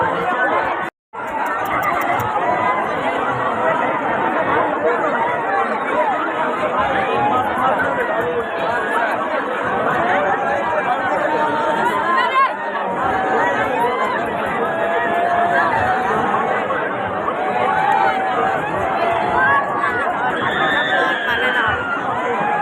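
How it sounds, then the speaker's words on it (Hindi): Dense crowd chatter at a fair with rides, a steady babble of many voices and movement filling the whole stretch without letup. "भीड़ है।"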